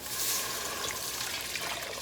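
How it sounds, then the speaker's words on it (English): Three cups of water pour into a pot of caramelized onions for butternut squash soup, a steady splashing trickle that runs without a break, fairly close and at an even level. "I'm going to add 3 cups of water to this."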